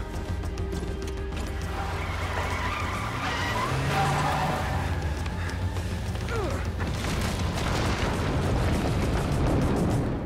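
Car tires spinning and skidding in the horror game The Evil Within, a loud sustained screech and roar with rumbling, continuous for the whole stretch.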